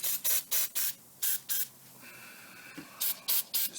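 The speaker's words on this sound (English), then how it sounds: "Just some foaming engine cleaner, just some degreaser. Just gonna quickly spray this on here." Foaming engine cleaner degreaser sprayed onto a Coleman outboard boat motor in a rapid string of short aerosol bursts, a quick cluster of six, a pause with a faint tap, then three more bursts, close and clear with no talking.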